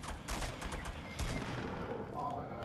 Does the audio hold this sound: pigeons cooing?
no